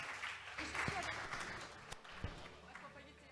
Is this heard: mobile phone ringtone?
no